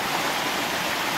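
A stream in a neighborhood running high after a rainy afternoon with a thunderstorm, a steady, close rushing and splashing of water without any voices.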